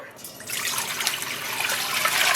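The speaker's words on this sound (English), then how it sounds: "I'm going to add 8 cups of water" Water pours steadily into a container being readied for dyeing wool yarn with cochineal, a bright splashing stream that rises slightly in level as the vessel fills.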